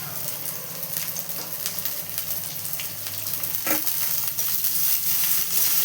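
Potato pieces and beans fry in hot oil with mustard seeds and cumin, a loud steady sizzle and crackle with occasional spoon scrapes, growing slightly fuller over several seconds.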